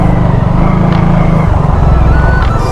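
Motorbike ridden near a waterfall at Sundarijal on New Year's Day, its engine droning steadily and loud up close, a continuous low rumble with slight shifts in pitch.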